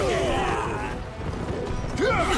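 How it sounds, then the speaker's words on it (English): Horse hooves and a neigh in the video game Wo Long: Fallen Dynasty, a short clatter of impacts under game noise with a rising whinny at the end, loud and near. "Isn't that horse? Isn't it Guan Yu's horse originally?"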